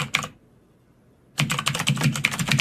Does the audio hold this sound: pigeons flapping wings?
no